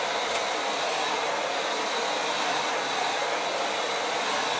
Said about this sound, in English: Put the blow dryer down.